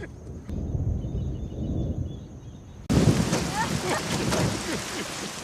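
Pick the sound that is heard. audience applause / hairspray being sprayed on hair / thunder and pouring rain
thunder and pouring rain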